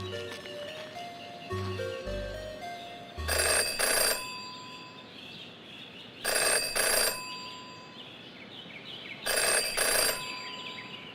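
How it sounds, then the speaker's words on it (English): An old-style telephone rings in the video game Jenny LeClue, with three evenly spaced bursts of bright, rattling bell rings over a quiet ambient background and some soft plucked notes at the start. "Jenny had learned never to ignore a ringing phone"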